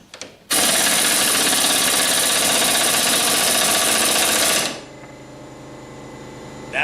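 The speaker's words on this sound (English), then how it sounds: "this is a Snap-on anniversary 1/2 inch impact gun at 175 to 100 psi." A Snap-on anniversary 1/2 inch air impact gun on about 100 psi removes a 15/16 spindle nut from a Cub Cadet ZT1-54 zero-turn mower deck. It gives a loud, close, continuous hammering rattle for about four seconds, then cuts off abruptly.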